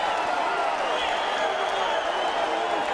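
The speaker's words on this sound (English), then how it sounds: "That's got this crowd going around" A boxing arena crowd in Hollywood, Florida roars steadily after the bell at the Giovanni Lorenzo vs Raul Marquez fight, a dense, unbroken cheer with a commentator talking over it.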